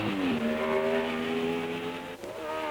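A 1962 Formula 1 race car at the French Grand Prix, among Cooper and BRM entries, screams past with a loud, sustained high engine whine whose pitch slides and dips briefly before picking up again.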